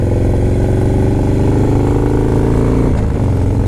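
A 2017 Harley-Davidson Low Rider S Dyna motorcycle engine revving up close, a loud steady rumble that climbs in pitch and then drops near the end.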